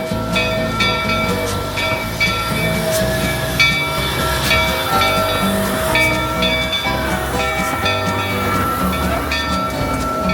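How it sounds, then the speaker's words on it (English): Calico Railroad narrow-gauge train ride at Knott's Berry Farm amusement park: steady rumbling rolling noise with clanking and rhythmic clatter throughout, loud and close, with no talking. "Going for a nice little ride on that Calico Railroad."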